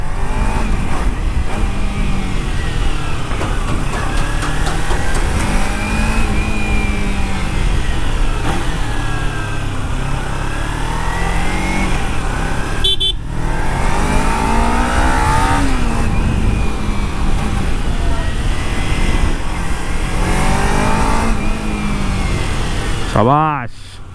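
Kawasaki Ninja 300, a 300cc two-cylinder motorcycle, revving and accelerating through gears on an Indian road, a smooth steady engine note that rises and falls continuously under wind and traffic noise.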